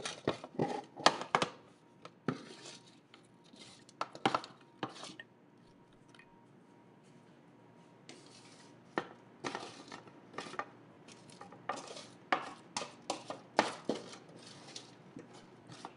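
A knife scrapes chopped root vegetables such as beets and potatoes across a board: irregular bursts of scratchy scraping and knocking, close and fairly quiet, with pauses between strokes.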